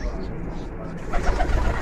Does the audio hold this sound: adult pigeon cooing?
yes